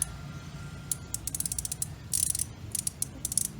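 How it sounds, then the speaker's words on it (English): A hand ratchet clicks in quick bursts while Torx bolts are loosened on the engine of a Chevy Trax 1.4T Ecotec, with crisp close pawl chatter and short pauses between runs. "next we need to remove these 2 bolts. They are Torx bolts,"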